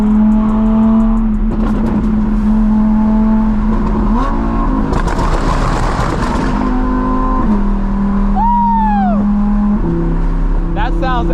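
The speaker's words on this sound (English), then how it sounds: "how does this car sound on a scale of 1 through 10?" An Audi R8 engine on a night drive revs and accelerates loudly and close, its steady drone climbing and dropping through several gear changes, with a burst of harsh roar midway and faint voices underneath.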